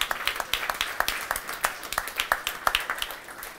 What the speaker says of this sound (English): Big round of applause for everyone for coming out.